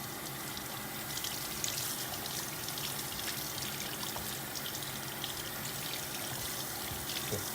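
Tap water running to rinse baking soda off white Adidas Superstar shoes, a steady quiet splashing hiss with small irregular spatters throughout.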